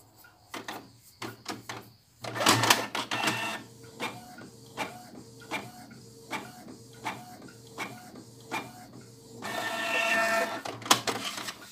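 A Canon MP237 inkjet printer runs a test page: rapid mechanical clicks and whirs, a sliding print-head rhythm, and a longer grinding feed near the end.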